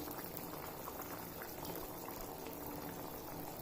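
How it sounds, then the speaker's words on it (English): Hot and sour vegetable soup boiling in a pot, a continuous close bubbling and gurgling that runs evenly throughout. "We're going to allow it to boil for some more time."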